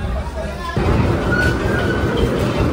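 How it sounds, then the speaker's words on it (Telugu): A toy train running toward the Elephanta Caves in Mumbai, a steady loud rumble with a faint high squeal partway through, under a babble of passengers talking. "ఇక్కడ నుంచి మనం ఎలిఫెంట్ కేవ్స్కి టాయ్ ట్రైన్లో వెళ్తాం"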